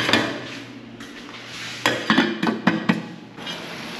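A metal lid clanks onto a cooking pot with a few quick rattling knocks as it settles, close by in a quiet kitchen.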